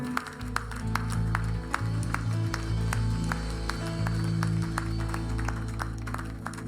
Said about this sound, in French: Qu'on peut donner une bonne main d'acclamation au Seigneur